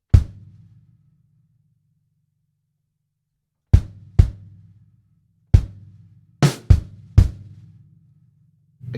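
Drum kit playing a sparse syncopated bass drum and snare rhythm from a grade 4 arrangement, with a single hit, a pause, then a cluster of sharp, close strikes that ring briefly and decay, heard alone.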